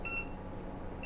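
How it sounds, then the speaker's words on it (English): A kitchen timer sounds while chicken enchiladas bake: a short high electronic beep, then a second one starting just as it ends, faint over a steady room hum, no talk. "So, there's the timer."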